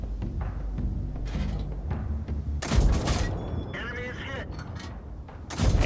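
Heavy booming shots from tank cannons in World of Tanks thud through a rumbling game soundscape, with several loud blasts and a sharp impact near the end, mixed with other in-game effects.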